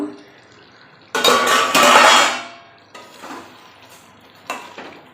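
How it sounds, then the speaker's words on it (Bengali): A lid lifts off a pot of chicken curry on the stove: a sudden metallic clank and rattle, a brief scrape, then quieter clinks and a last light knock. "দশ মিনিট পর ঢাকাটা খুলে দেখব"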